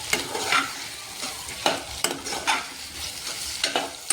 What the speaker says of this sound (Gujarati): કંટોલાને પણ આપણે તેલમાં જ ફ્રાય થવા દેવાના છે.